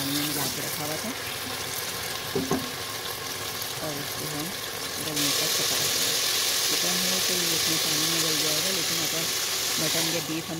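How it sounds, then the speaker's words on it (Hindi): Hot oil sizzles steadily as chicken sautés in a pan for qorma, the hiss growing louder midway, while someone talks over it. "इसको हम सौते कर लेंगे।"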